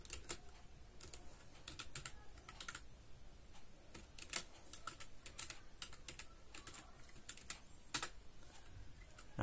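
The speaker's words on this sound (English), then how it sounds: "After that, you need to type your Wi-Fi password." Rapid keystrokes on a computer keyboard as a Wi-Fi password is entered during an Arch Linux installation, a steady run of close, light clicks with no talking.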